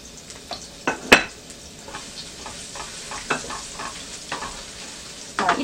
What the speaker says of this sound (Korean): 생강 볶아줍니다.